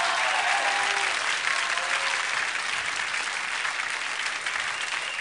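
A French television studio audience applauds before a live performance, giving dense, steady clapping from start to finish with no pause and no talk over it.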